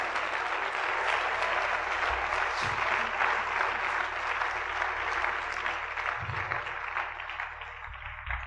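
A church congregation applauds steadily, a dense, sustained wash of clapping that fills the room, with a few low thumps beneath and a slight easing near the end.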